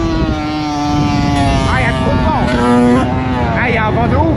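Strong wind blowing on an outdoor microphone makes a loud, continuous low rumble and buffeting for the whole stretch, with faint tonal sounds and a voice riding on top.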